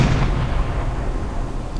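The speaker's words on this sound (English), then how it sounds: "Oh, that was a big explosion there." A deep, booming explosion from a ship being shelled below the waterline in the submarine game Silent Hunter 4. It is loud and rumbling, with crackling bursts dying away over a couple of seconds, and no speech.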